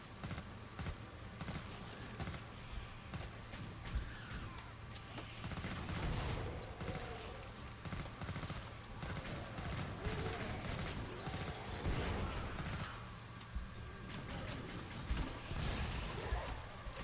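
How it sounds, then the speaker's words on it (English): M16 assault rifle firing in the Killing Floor 2 video game, with sustained rapid bursts of gunfire and mechanical clatter running continuously and loud throughout. "So we've got this M16 assault rifle, and then our alt fire is a grenade launcher."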